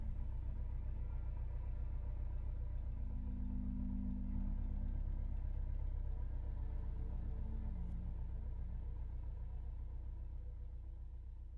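Car engine in the video game Easel the Monk, a steady low rumble while driving at night, continuous and fairly quiet, with no voices.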